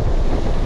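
A strong side wind of about 30 knots buffets the microphone on the coast during a fishing trip, a loud, rough rumble of gusting air with no one speaking.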